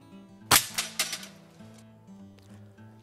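A single sharp crack from an Air Arms S510 XTRA FAC .177 PCP air rifle, followed by a few quick metallic clicks of the pellet striking a target, heard close with faint background tones.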